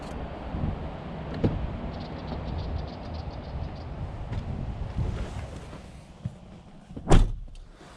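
Door of a diesel Audi A3 swinging shut, a single solid thud near the end that follows a stretch of outdoor wind and car noise.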